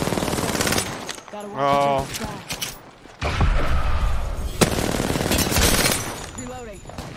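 Bursts of automatic gunfire in the video game Apex Legends, loud and close, broken by brief gaps, with a voice exclaiming over the shooting.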